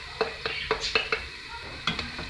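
Onion sautés in a pan with a quiet sizzle, punctuated by a quick run of rhythmic metallic taps and scrapes of a utensil against the pan.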